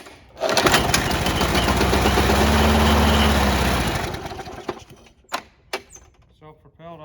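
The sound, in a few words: old push mower engine running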